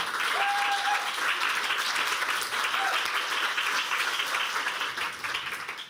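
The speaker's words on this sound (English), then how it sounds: "Give her applause." Sustained applause from an audience at a demo day event fills the whole stretch, steady and dense, tapering slightly at the end.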